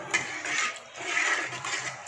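Tamarind water poured into a simmering fish curry gives a short liquid rush and splash, close and moderately loud, swelling twice over about two seconds.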